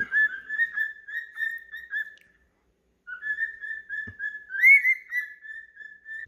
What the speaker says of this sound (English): This guy's over here whistling at the female